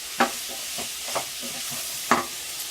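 Pan frying for an Indian chicken curry gives a soft steady sizzle punctuated by a few sharp stirring scrapes and clacks of a spoon, close and without talk.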